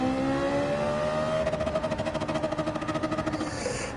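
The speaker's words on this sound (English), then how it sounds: "we're just using up the fuel by keeping the revs high" Race car engine in Gran Turismo 7 held at high revs to burn off fuel during an online race lap: a loud, steady, high-pitched whine that rises, then turns into a rapid pulsing drone near the end, with no talk.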